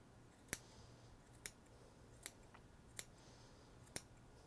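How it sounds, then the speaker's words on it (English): Scissors snip through strands of yarn on a pom-pom maker with five sharp, evenly spaced cuts, quiet and close in a still room with no speech. "as evenly as possible, just snip down this row"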